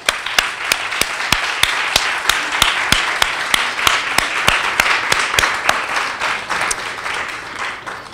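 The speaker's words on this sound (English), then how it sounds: "Let's give them another round of applause for their wonderful books." An audience at a live-streamed author event at Bank Street College applauds, a steady wash of clapping with one or a few sharp, regular claps standing out near the microphone throughout.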